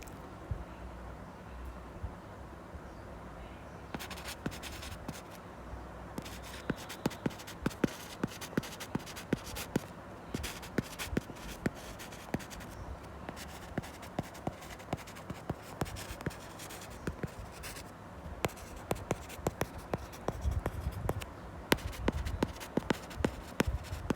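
Pen or pencil writes notes on paper through a long stretch of steady scratching and tapping strokes, close and fairly quiet, with no voices.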